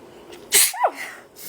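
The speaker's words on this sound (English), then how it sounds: "I'm going to sneeze." A single sharp sneeze bursts out close to the microphone during a live product launch, loud and brief, trailing into a short throat sound and quiet room noise.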